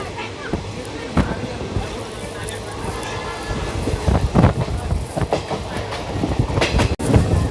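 Simhadri Express running on the rails in India, a steady rumble with rhythmic clickety-clack wheel beats and occasional sharp knocks, heard from on board and fairly close throughout.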